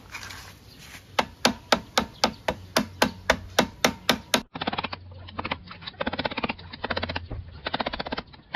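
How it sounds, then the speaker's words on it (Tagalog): A hammer strikes a flat screwdriver set against a large nut to turn it clockwise on a motorcycle's steering ball race. About twenty sharp, evenly spaced metallic taps ring out close by, in two bursts with a brief break between. "Tapos ito, pukpukin lang natin pa-clockwise. Gamit tayo ng flat screw at martilyo dito."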